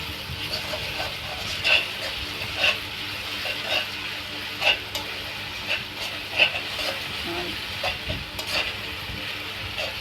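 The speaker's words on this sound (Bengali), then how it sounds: "এখন আমি আর একটু পানি দিয়ে মশলাটা কষিয়ে নিব" Spice paste being sautéed with a little added water for a soft-fleshed bele fish curry: a steady close sizzle and hiss with repeated scraping stir strokes every second or so, with no talk.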